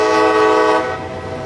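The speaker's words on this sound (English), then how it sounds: "coming up the Yeoman Yard bypass track, is train B311, shuttling a train of empty dry rock hoppers back to a processing plant in the Bone Valley" CSX freight train B311 hauling empty dry rock hoppers on the Yeoman Yard bypass track, a loud steady horn-like tonal blare that holds, then eases slightly as the train rolls on.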